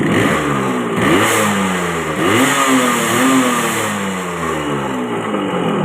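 A small engine under carburetor testing, after a fuel-flooding carburetor fault, revs up repeatedly close by, each throttle blip rising and falling in pitch over a steady idle, in about four or five waves with no talking.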